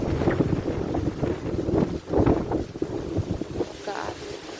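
Wind buffets a microphone outdoors near water and boats, with steady low rumbling gusts swelling and easing throughout, loud and close, and no speech.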